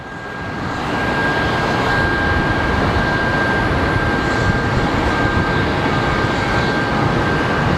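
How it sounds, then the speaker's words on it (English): An American airliner departing Sky Harbor Airport for Salt Lake City produces a loud, steady engine roar that swells over the first second, then holds broad and constant, with a thin whine riding above it. "our next departure is going to be American 3248 going to Salt Lake City"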